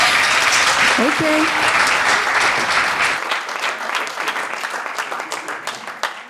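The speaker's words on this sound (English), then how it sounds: "I want you guys please to give a round of applause" A crowd applauds steadily, the clapping thinning toward the end, with a voice speaking briefly over it.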